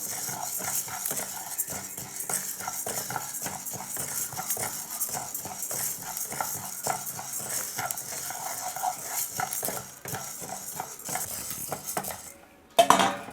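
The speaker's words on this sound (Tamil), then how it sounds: "150 கிராம் வெள்ளை உளுந்து வந்து வறுத்து எடுத்துக்கலாம்" About 150 grams of white urad dal is dry-roasted for idli podi and stirred constantly in a pan, giving a continuous close, gritty rattle and scrape that pauses briefly near the end.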